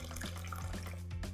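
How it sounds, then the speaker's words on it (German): Remaining water pours into cornbread dough in a mixing bowl, a faint, steady trickle over a low background hum, with no voices. "Hier habe ich noch das restliche Wasser, das kommt natürlich auch noch dazu."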